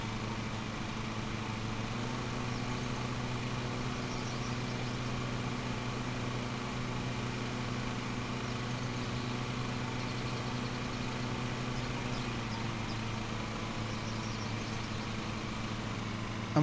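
A lawn mower engine in the Lawn Mowing Simulator 2021 game runs with a steady, even drone throughout, moderately loud and without talk.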